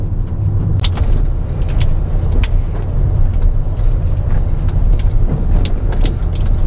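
A car driving steadily along a road under a canopy of trees, its low engine and tyre rumble continuous and close, with faint brief clicks and knocks over the drone.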